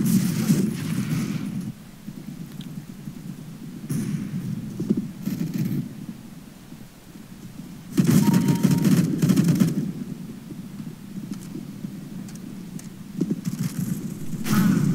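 Gunfire in CS:GO comes in loud bursts of rapid shots that start and stop, with quieter gaps between them.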